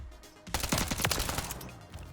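The Striker gun firing in the video game Warzone: a rapid, sustained burst of shots rattling together in a dense, loud volley lasting about a second and a half.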